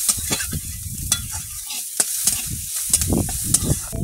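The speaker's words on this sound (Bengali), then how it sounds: "এবারে পাঁচফোড়ন দেবো" Five-spice seeds hit hot oil in a home kitchen and sizzle sharply, with bursts of crackling and stirring scrapes and several bright pops, close and loud, with no voices.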